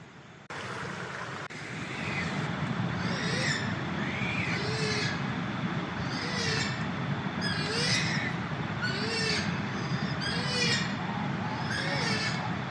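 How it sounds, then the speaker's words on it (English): Birds calling repeatedly at night outside a tent by a river, a series of squawking, rising calls every second or so over a steady background hiss, moderately distant. "Little noisy outside, birds seem to be going off at the moment."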